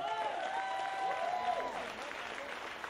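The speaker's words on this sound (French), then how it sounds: "Je pense qu'on peut les applaudir bien fort." An audience claps steadily, a continuous patter of applause, while a voice with a sustained tone rises briefly over it.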